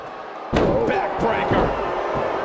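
A heavy body slam in the WWE 2K23 wrestling video game as a backbreaker lands, a sharp thud over crowd noise and commentary.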